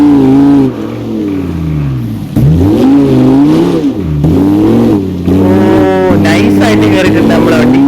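Police Lamborghini in a video game climbing an off-road slope, its engine revving in rising and falling sweeps with shifting pitch, loud and close, with a voice speaking over it in places.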